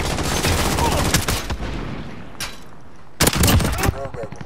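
Video game gunfire in dense, loud bursts: a long rattling stretch at the start, a few isolated shots, then another sharp volley near the end, with no talk.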